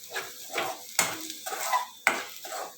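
Onion and garlic browning in a pan for a fried-rice sauce, stirred with a utensil: a few distinct scraping clinks against the pan, with soft sizzle between, close and fairly quiet.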